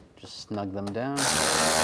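A power tool runs in a brief whirring burst while snugging bumper cover bolts on a 2011-2019 Ford Explorer, following a short voice and ending in a louder, steady mechanical whir close by.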